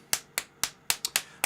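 Seven crisp, close hand claps against the body, sharp and separate, coming at a fairly even pace in a quiet room.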